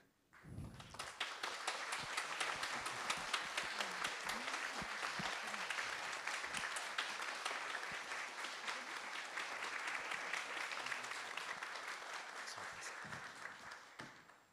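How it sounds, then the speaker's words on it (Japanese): Sustained applause from a lecture audience welcoming two speakers, the artist Yukimasa Ida and Fumio Nanjo, at a commemorative cultural talk; steady, dense clapping that swells quickly and holds evenly for about fourteen seconds before tapering off. "皆さん盛大な拍手でお迎えくださいませ"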